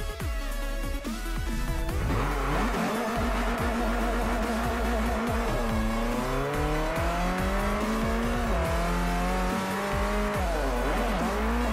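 Drift car in the Forza Motorsport 4 racing game, its engine revving and shifting pitch continuously as the tires squeal through long slides, loud and close throughout with no talking.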